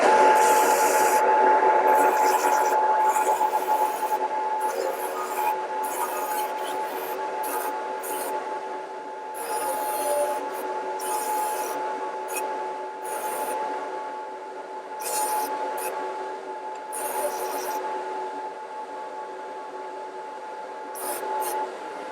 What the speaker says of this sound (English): then we'll go over to the sander and we'll clean it up